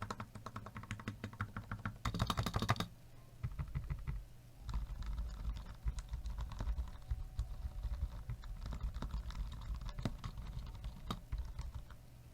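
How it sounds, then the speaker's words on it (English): Typing on a custom-built Mysterium TKL mechanical keyboard, including key bashing on the bottom-row keycaps: a quiet, close run of rapid clacks with a brief louder flurry and short pauses. "a bit of key bashing here and there with the keycaps on the bottom row there"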